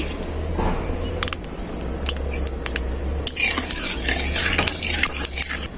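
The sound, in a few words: black cumin and black mustard seeds frying in mustard oil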